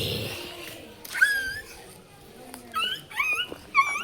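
A man imitates a dog whimpering, producing high, wavering whines and yips in short bursts, close and clear, with a brief breathy sound at the start.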